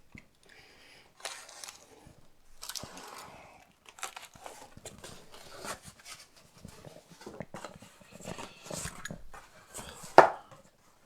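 A knife cuts open a cardboard box of vintage auction items, producing intermittent close scraping and slicing sounds with soft rubbing and a sharp thud near the end.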